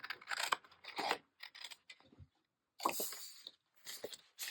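Scissors trim a paper border for a journal page in several short, close snipping bursts separated by brief pauses, quiet and crisp.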